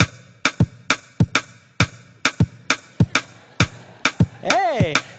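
Two interlocking percussive click patterns play together in a three-against-four polyrhythm, sharp taps overlapping steadily, ending with a brief sliding whistle-like sweep.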